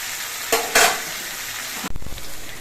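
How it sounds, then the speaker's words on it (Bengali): Taro stolons (kochur lati) fry in an oily pan with a steady close sizzle, broken by a few scraping stirs and clattering spoon strokes against the pan, no voices. "এইভাবে কিছুক্ষণ রান্না করে নিতে হবে কচুগুলো কিন্তু রান্নার সময় কিন্তু একটু বাদে বাদে মেরে দিতে হবে"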